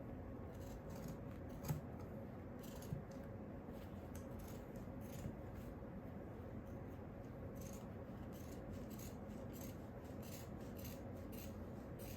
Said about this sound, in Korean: 가위도 잘 안 되네 이거